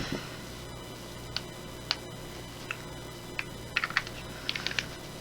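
Small plastic button clicks on an Orbit TF device, a few isolated sharp ticks spaced about a second apart, then a quicker cluster of clicks near the end, close and quiet over faint background hum.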